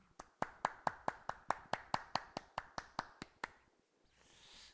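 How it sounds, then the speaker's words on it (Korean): A church congregation claps in a brisk, even rhythm of about fifteen sharp claps at a family worship service, then the clapping stops and a soft room hiss follows. "우리 가장들을 위해서 박수 한번 했으면 좋겠습니다"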